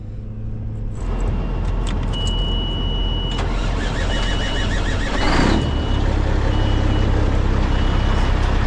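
Truck reversing beeps repeating steadily over a loud running diesel engine, with a low rumble building as the heavy vehicle moves near Seligman, Arizona.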